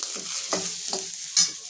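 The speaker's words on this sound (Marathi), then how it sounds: "तर हे छान भाजून घेऊया आपण थोडंसं गुलाबीसर" Whole spices and coconut (bay leaves, nutmeg, peppercorns, cardamom, cinnamon and clove) roast dry in a pan as they are stirred, with about four short, close scraping strokes over a faint sizzle.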